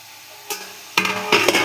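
Eggs cook in a pan for an egg kosha dish; a quiet pause gives way to bursts of loud sizzling and scraping as the food is stirred.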